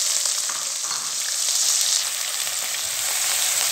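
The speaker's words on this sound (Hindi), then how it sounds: "और प्याज को भी 1 मिनट के लिए भून लें।" Chopped onions sizzle loudly in hot oil with fried spices for white matar pulao, a dense steady hiss close up and continuous, with no voices.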